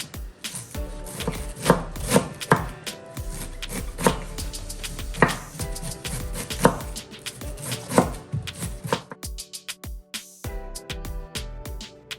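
Raw carrot being chopped with a knife on a board in a kitchen, with steady, close, crisp thuds repeating quickly for several seconds before slowing to a few scattered cuts.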